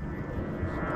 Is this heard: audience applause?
no